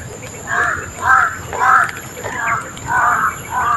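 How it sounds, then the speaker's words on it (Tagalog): Crows caw repeatedly, six harsh calls in an uneven rhythm at moderate distance, over a faint steady background hum. "Mga uwak po."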